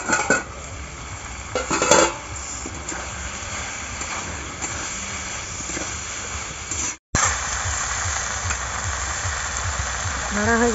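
A cauliflower and pea curry is stirred in a pot with a metal spoon, scraping and clinking against the pan over a constant background hiss, with a short cut partway through and no speech.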